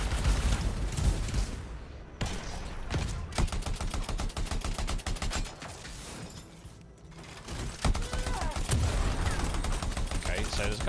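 Rapid automatic gunfire from the video game Anthem, dense bursts of shots and explosive impacts filling nearly the whole stretch with only brief lulls, loud and close in a chaotic firefight.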